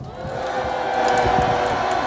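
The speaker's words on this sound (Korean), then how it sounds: "우리 조선영 청년을 큰 박수로 모시도록 하겠습니다." A large outdoor rally crowd at Gwanghwamun in support of President Yoon Suk Yeol roars with loud, sustained cheering, shouts and clapping that swell and hold throughout, close and dense.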